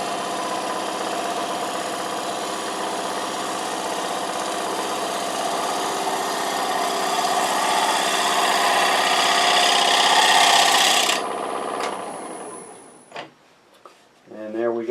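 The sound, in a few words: sharpening a woodturning scraper tool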